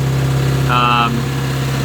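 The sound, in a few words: boat engine running at cruising RPM, 2,000 RPM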